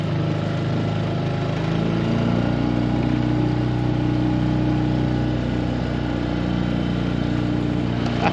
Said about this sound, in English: I've never driven a boat with this type of a little outboard that you run by hand.